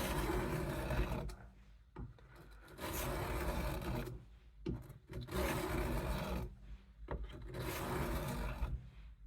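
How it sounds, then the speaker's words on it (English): A steel knife blade is drawn in repeated rasping passes across the 600-grit side of a sharpening stone, each stroke a close, gritty scrape separated by brief pauses. "we're here for our last few passes on the 600 grit. That's the finest grit on this sharpening stone."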